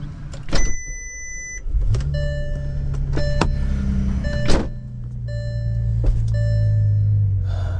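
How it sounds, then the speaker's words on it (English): A Dodge Durango passes close by with a low, steady engine rumble that swells and holds, while sharp clicks and electronic chime-like beeps ring out in the foreground. "Now this stupid Durango's driving through here, of course."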